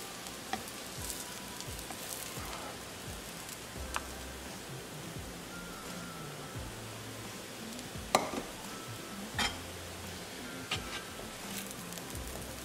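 Cooked aloo methi bhurji is dished out of the pan, with a faint low sizzle running throughout and scattered spoon scrapes and metal clinks, including one sharper tap near the middle.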